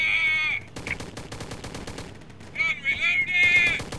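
Gunfire in the World War II video game Easy Red 2, a rapid rattle of automatic shots under and between shrill whining tones that come and go, loud and close, with no talking.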